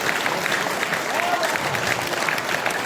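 An audience claps steadily and densely at an outdoor Swadeshi fair in Surajgarh during a poetry performance, a continuous wash of many hands close by with some voices mixed in.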